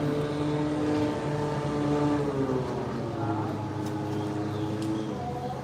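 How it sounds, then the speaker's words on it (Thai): A fast boat races past on the Chao Phraya River in Thailand, its engine a loud steady drone with shifting pitch that swells and then eases as it passes close by, with no talking over it. "โอ้เรือซิ่งเรือซิ่ง"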